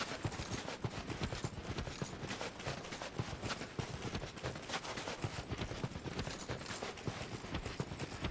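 Horses' hooves clatter in a steady, busy clip-clop inside the video game Dark Souls II, dense overlapping beats running the whole stretch at moderate loudness with no talk.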